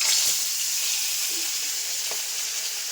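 Bitter gourd and potato fry in a pan in a Bengali home kitchen as part of a bata fish curry meal. The oil gives a steady, close, hissing sizzle with faint stirring scrapes and no talk.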